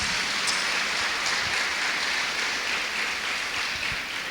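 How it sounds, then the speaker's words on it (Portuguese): A crowd at a church youth event in Cianorte gives sustained applause to the university visitors from Maringá, a steady hiss of many hands clapping at moderate loudness, with no voices over it. "Um aplauso para o nosso querido Maringá, que mandou representantes"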